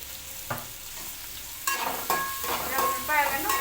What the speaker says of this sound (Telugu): ఉల్లిపాయలను కొంచెం వేగనివ్వాలి